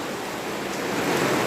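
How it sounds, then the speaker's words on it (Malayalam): Heavy rain pours onto a pond, a dense, steady hiss of drops up close, with no voices. "മഴ നല്ലവണ്ണം പെയ്യുന്നുണ്ട്. നല്ല മഴയാണ് ഇവിടെ."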